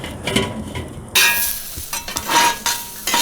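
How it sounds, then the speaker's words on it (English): Onions frying on a hot griddle with a broadband sizzle that jumps louder partway through, joined by scraping and stirring of a spatula and light metallic clinks. "these onions nice and caramelized up"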